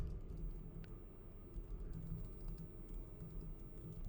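Computer keyboard keys being typed in a steady, quick patter of soft clicks, close and moderately quiet, with no voices.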